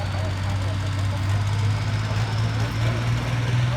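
At a truck and tractor pull in Skagit County, a pulling tractor fitted with a race car containment seat gives off a steady, low rumbling engine drone at moderate distance, with a faint haze of background noise.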